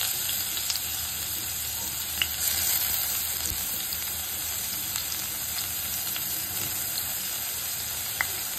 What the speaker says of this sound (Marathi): त्याच्यानंतर मी आता कांदा घालतेय